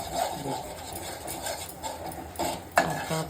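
Masala paste for Agri-style paneer curry is stirred and sautéed in a pan over low heat, with repeated scraping and clinking of a spoon against the metal pan, close and moderately loud, including one sharper knock near the end.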